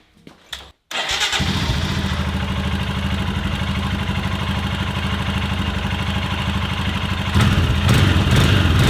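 A Royal Enfield Himalayan motorcycle engine cranks and fires after a brief pause, then settles into a steady loud thumping idle up close, with a rev rising near the end.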